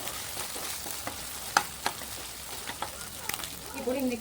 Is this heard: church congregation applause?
no